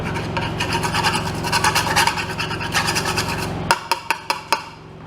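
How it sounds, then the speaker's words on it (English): A drill-driven wire brush scrubs harshly against metal on a RotoHoe tiller, grinding steadily for a few seconds, then stops with a few sharp knocks. "I'll put it on a drill motor."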